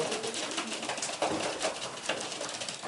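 Pigeons in a loft coo repeatedly in soft, overlapping calls over a steady background hiss, fairly close and with no talking.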